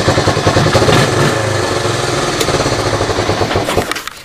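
A 1986 Honda Big Red three-wheeler engine runs loud and close with a rough, pulsing single-cylinder putter that holds steady for a few seconds, then fades as it settles.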